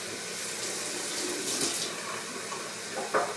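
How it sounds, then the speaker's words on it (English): Carrots rinsed under a running kitchen tap, a continuous splashing water stream with slight shifts as the carrots move through it, close and steady with no talking. "I'm just going to rinse these carrots."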